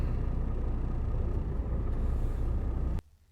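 A furniture truck's diesel engine idles and rumbles low and steady while parking, close and loud, then cuts off abruptly near the end into near silence.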